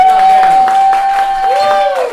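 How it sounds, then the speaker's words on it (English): An audience at a local history night in Greenpoint applauds a speaker with rhythmic clapping and some cheering, while a voice talks over the crowd and a steady tone hums beneath. "Give Matt a huge round of applause"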